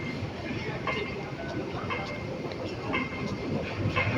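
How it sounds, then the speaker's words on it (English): A Hong Kong MTR train rolls into a station platform, a continuous broadband rumble with faint rhythmic clatter and light, airy platform ambience throughout, no speech evident. "The train to Wukai Sha is arriving."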